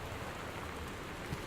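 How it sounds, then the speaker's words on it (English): Rain falling outside a house in the video game Gone Home, a steady, even hiss of downpour heard alone at moderate loudness. "It's raining outside still."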